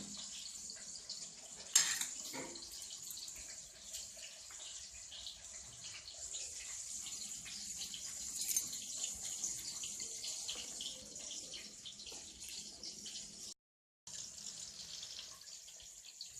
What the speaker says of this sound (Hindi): दाल को धो लेंगे अच्छे तरह से।